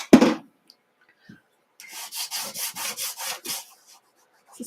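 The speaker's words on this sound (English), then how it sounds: "I can kind of rub my hand on it" A hand rubs back and forth over a wet, water-sprayed Chalk Couture paste surface, making about eight soft rhythmic swishing strokes up close after a single knock and a short quiet pause.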